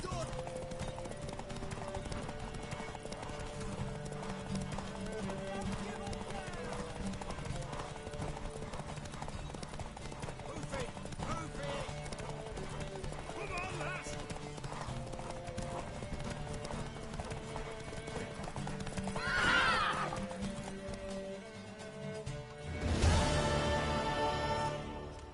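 Horse hooves clip-clop steadily through most of a scene from the video game The Witcher 3, with a mare's whinny rising near the end over background music and game characters talking.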